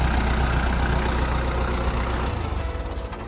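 A Kubota L4508 tractor, a 45-horsepower diesel, idles steadily with a low, knocking engine rumble, close and continuous with no talk, easing slightly toward the end.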